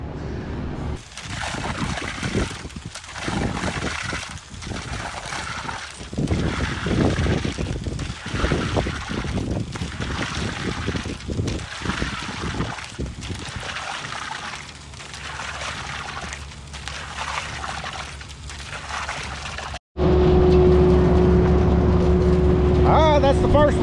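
Mud Demon concrete pump running on a job pushing concrete through 150 feet of 2.5-inch hose: a loud, continuous mechanical rumble with rhythmic surging pulses, joined by a steady engine hum near the end, with people talking over it.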